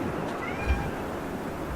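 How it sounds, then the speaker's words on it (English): A pet cat meows once or twice up close over a steady background wash, the call short and fairly clear. "My little cat Dagmere would like to say hello"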